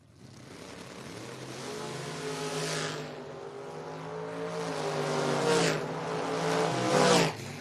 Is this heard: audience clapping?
no